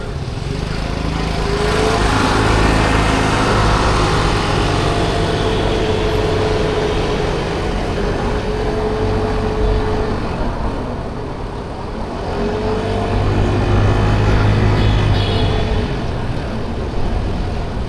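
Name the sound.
50cc motorbike engine while riding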